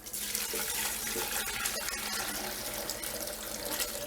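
Broth pours steadily from one vessel back into a soup pot in a home kitchen, a continuous close liquid splash that runs without a break for several seconds, with no talk over it.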